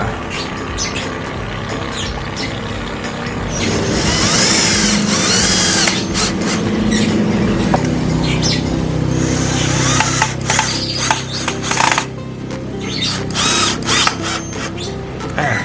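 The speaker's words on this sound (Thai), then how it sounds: "ก็เจาะไปตามตำแหน่งที่เราเจาะรูไว้ทั้งหมดนะแปดตัว" A power drill whirs in repeated bursts, revving up and stopping as screws drive into wood, close by with some handling noise between.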